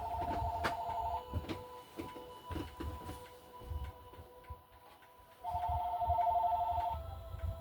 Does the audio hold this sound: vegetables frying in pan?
no